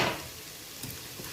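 Béchamel sauce being stirred in a pan for vegetable and minced-meat lasagne, a soft, faint scraping and gentle sizzle that is loudest at the start and then settles to a quiet, steady murmur.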